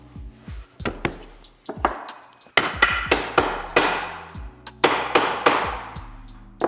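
Sharp wooden knocks as dowelled pieces of wood are tapped together to mark dowel centres, a dozen or so irregular strikes, close and fairly loud, with no talking.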